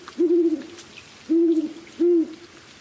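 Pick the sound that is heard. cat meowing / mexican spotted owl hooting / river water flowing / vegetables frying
mexican spotted owl hooting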